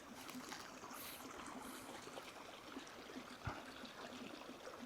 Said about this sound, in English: That is the water line across the property.